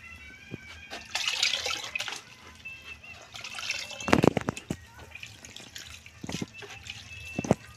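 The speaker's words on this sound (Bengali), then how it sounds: "এবার আমি জল দিয়ে ঠান্ডা জল দিয়ে ধুয়ে নিই" Boiled egg noodles are rinsed in a bucket of cold water, with splashing, sloshing and scattered drips in uneven bursts, some sharper handling noises, all fairly close.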